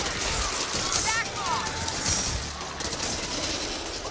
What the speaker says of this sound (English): A big bomb.